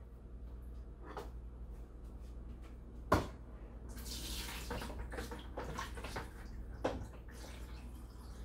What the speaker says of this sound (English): I was emptying the water from the tank